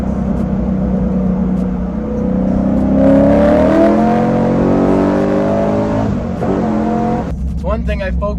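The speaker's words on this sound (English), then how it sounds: "those downshifts are awesome" An LS3 V8 engine in a swapped Nissan 350Z revs up and rises in pitch, then drops through gears with quick blips and burbles, loud and close, with someone talking over it.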